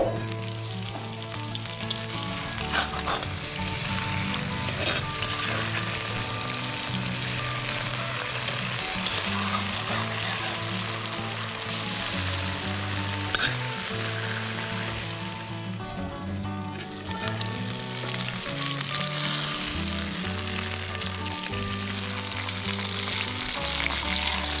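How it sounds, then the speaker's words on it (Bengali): Fish paturi, small river fish wrapped into parcels, set into hot oil in a pan and frying with a steady, dense sizzle that runs throughout, partly under continuous melodic background music. "তেলটা দিয়ে ভালো করে একটু গরম করে নাড়িয়ে চাড়িয়ে নিয়ে আস্তে করে বসিয়ে দেব পাতুরিগুলো"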